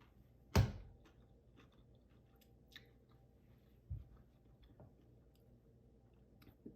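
Crispy baked tofu topped with hot honey is bitten with one sharp, loud crunch, followed by softer chewing, a second smaller bite and scattered faint mouth clicks.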